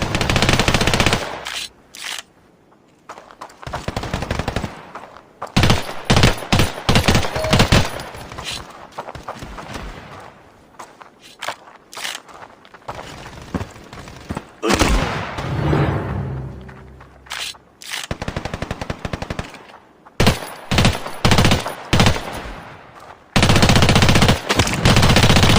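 Rapid automatic gunfire from the Standoff II mobile online first-person shooter game crackles in dense bursts and single sharp shots, broken by short pauses, loud and close with no speech.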